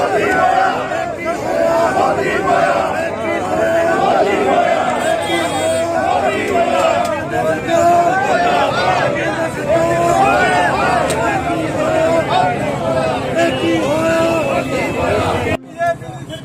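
A dense crowd of protesting farmers at the Singhu border shouts slogans in loud, continuous rhythmic chanting, many voices together, close and sustained throughout.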